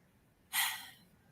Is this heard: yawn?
yes